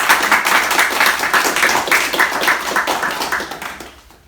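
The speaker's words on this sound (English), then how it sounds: "I think they deserve a big round of applause from Croydon Council" A round of applause at a volunteer certificate presentation, with clearly pulsing rhythmic clapping from a modest crowd that fades out over a few seconds.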